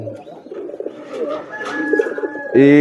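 Courting pigeons coo close by, a few soft throaty warbling calls rising into a louder, fuller coo at the end.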